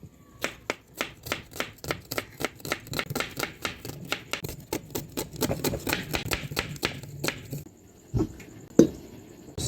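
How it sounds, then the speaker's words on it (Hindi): A knife chops onions on a board in a fast, even series of sharp close thuds that slows and stops near the end, with no voices. "प्याज काट लेंगे"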